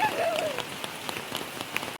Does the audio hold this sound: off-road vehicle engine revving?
no